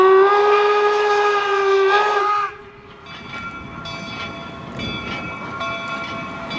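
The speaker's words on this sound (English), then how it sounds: "You need to hear some more whistles as it approaches the station here." A train in Weber Canyon, Utah, sounds a loud, sustained whistle as it approaches the station, the chord cutting off after a couple of seconds, followed by rumbling rail noise and fainter, shorter whistle tones.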